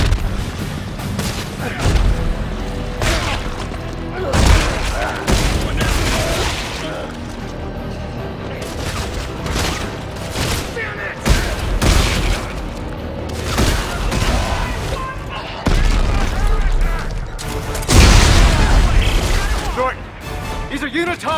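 Gunfire and heavy blasts from a firefight in the sci-fi horror shooter Dead Space 3, with loud bursts and booms layered over game music, shouting voices and chaotic battle noise.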